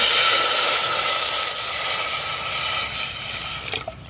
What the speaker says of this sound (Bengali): হাঁড়িতে এবার জল দিচ্ছি,